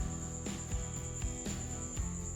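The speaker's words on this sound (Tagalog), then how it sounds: "mahingayin ang kuliglig" Crickets chirping at night by the shore during spearfishing in the Philippines, a steady high-pitched trill running continuously while low bumps and knocks sound faintly beneath it.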